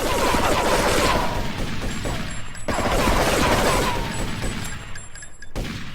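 An Uzi sprays rapid-fire bursts in Grand Theft Auto III, long dense rattling volleys of gunfire with brief pauses between them, loud and close amid mechanical game noise.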